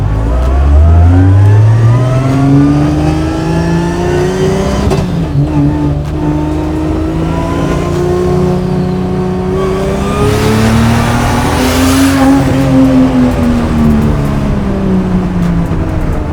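A loud 700 hp 2JZ engine in a Chevy Monte Carlo drift car revving up and down repeatedly, pitch climbing and falling as it accelerates, close and sustained with a race-car growl.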